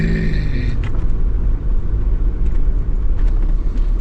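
A car crawls slowly in first gear along a steep mountain road through Cajas National Park, its low engine rumble steady and close, with no voices.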